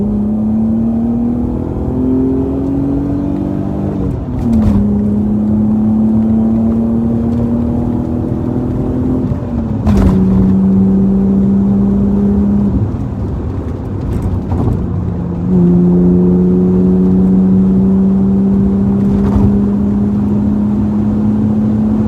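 BMW E36 323 engine pulling hard through repeated accelerations, its steady tone climbing with each rev and dropping at three gear changes; a loud, close, continuous drone with no talk.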